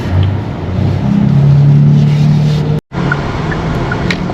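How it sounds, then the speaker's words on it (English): Kia EV9 electric seven-seater car pulling away, heard from inside as a steady low road rumble with a faint rising tone, loud and continuous apart from a brief cut. "Now we're going to take this car for a drive."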